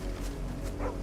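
A dog in the video game Final Fantasy XVI gives a couple of quick, soft barks over a low steady game background, brief and fairly faint.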